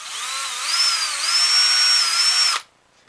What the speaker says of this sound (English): we're going to try to drill it straight into the body.